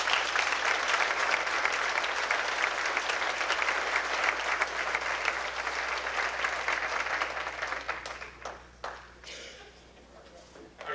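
A football banquet crowd applauds for several seconds, dense steady clapping that thins out and fades near the end, leaving scattered claps and room noise.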